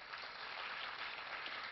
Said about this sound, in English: Can we again have a huge round of applause